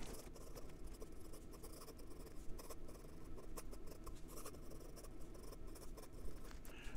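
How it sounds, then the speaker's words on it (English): A 1948 Parker 51 Vacumatic fountain pen scratches quickly across paper in faint, busy strokes, a soft steady rasp with no talking. "So this nib writes in both directions almost identically. And some quick writing."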